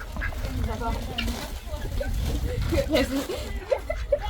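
Ducks being fed at a zoo in summer give brief quacks and honks, mixed in with nearby people talking over steady outdoor background noise.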